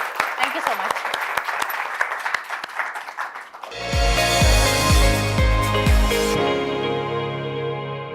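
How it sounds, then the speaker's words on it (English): Audience applause at a talk show, scattered claps under speech at first, then a loud music sting with heavy beats takes over and fades out. "I think we must clap for the audience today."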